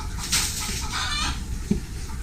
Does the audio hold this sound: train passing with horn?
no